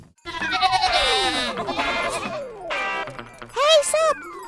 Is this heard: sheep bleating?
yes